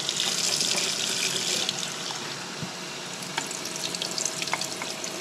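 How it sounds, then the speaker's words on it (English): Tap water runs steadily over freshly caught sand flea mole crabs in a sink, a continuous close splashing rush that eases slightly after the first two seconds. "Run some water through them."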